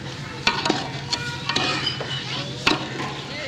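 Black mulberry syrup with about 1.5 kg of sugar is stirred in a pot, with a spoon scraping and knocking the rim in irregular sharp taps over a low steady hum, close up and with no speech.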